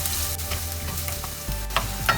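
Garlic, ginger, green chili, spring onion bulbs and celery stir-frying in a pan for vegetable fried rice, a bright steady sizzle with soft scraping stirs, close and without speech.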